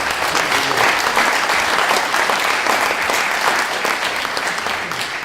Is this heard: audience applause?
yes